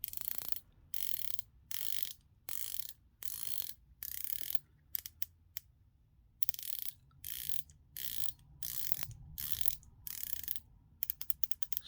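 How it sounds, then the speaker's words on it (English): Steeldive dive watch bezel turned in bursts, each burst a rapid run of fine ratchet clicks from its 120-click unidirectional mechanism, close and quiet with short pauses between turns. "let's compare the bezel sounds and rotation. Both are 120 click unidirectional"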